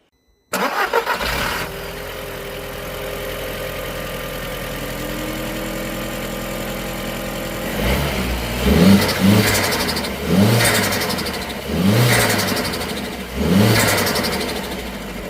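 An Audi TT 8N 1.8T engine cranks and catches, settles into a steady idle, then revs up sharply four times in a row, close by with no talking.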